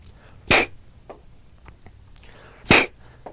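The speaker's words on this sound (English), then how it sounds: "You want to blow through. You're looking for a nice popping sound, a real firm sound" Two sharp, breathy pops a couple of seconds apart as air is forcefully blown through a paintball gun barrel with a paintball in it, with quiet background between them.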